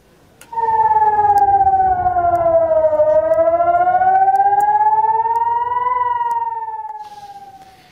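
An air raid warning siren in northern Israel, west of the Sea of Galilee, sounding after rocket fire from Lebanon, wails loudly and steadily, its tone slowly falling and rising again over several seconds before fading slightly.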